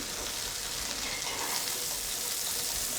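Shallot frying in a hot risotto pan gives a steady broadband sizzle that holds at an even level throughout, close and alone with no voices.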